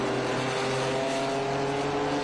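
Ginetta race cars at Watkins Glen head into the boot section, their engines giving a continuous buzzing drone at a steady distance with no break in the sound.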